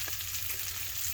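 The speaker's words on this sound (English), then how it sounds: "I went ahead and put our sauteed mushrooms and onions back on the grill and just kind of warm them up." Sauteed mushrooms and onions warming on a grill give off a steady, soft sizzle and crackle throughout, with no talking over it.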